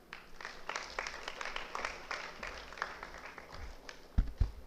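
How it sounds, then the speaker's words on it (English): A seated audience at a student awards event gives soft, scattered applause to welcome a top exam scorer, faint and somewhat distant, with a couple of sharper knocks near the end. "A round of applause for Kamali."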